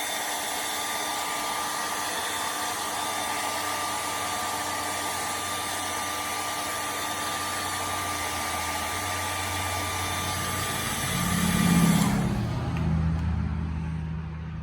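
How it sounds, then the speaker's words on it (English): A handheld hair dryer blows steadily and loudly up close, warming a car headlight cover, its whine holding constant before cutting off near the end, followed by a brief low rumble. "Take your hair dryer and I'll get it"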